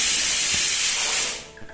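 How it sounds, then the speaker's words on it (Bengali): A pressure cooker whistle releases a loud, close, sustained hiss of steam that fades out after about a second and a half, with no voices. "কথা বলতে বলতে ওদিকে প্রেশার কুকারে সিটিও পড়ে গেল।"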